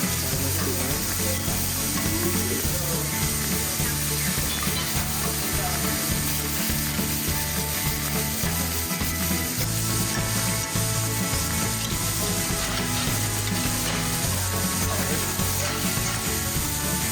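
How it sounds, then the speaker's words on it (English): Beef sizzling in oiled cast iron pans in a casino restaurant kitchen, a loud steady frying hiss that fills the whole stretch with constant crackle and a low kitchen hum beneath. "Once I put the oil in the cast irons, you can go ahead and you can toss that beef on there."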